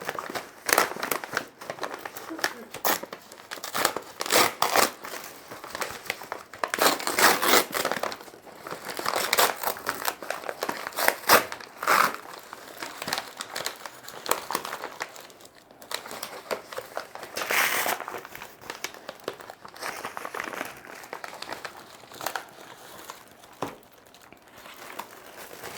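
Paper wrapping around a mailed plant is torn and crumpled in repeated crinkling, crackling bursts of varying loudness, close by and continuing at length with short pauses between handfuls.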